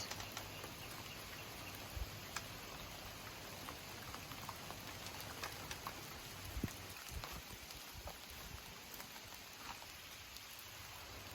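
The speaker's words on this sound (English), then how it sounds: "but it's raining" Steady rain patters outdoors on an Iowa flower farm, a dense continuous hiss of drops with a few louder splashes nearby, no voices.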